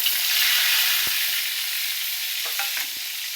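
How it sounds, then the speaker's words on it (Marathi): Spice masala sizzles in hot oil in a pan for drumstick pods, a steady close hiss of frying with a few faint taps and scrapes of a stirring spoon. "चांगलं तेलात परतायचं आहे"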